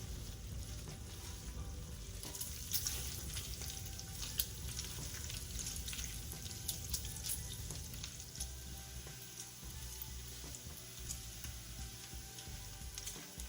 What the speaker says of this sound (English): I'm just going to fry the bacon until they are nice and crispy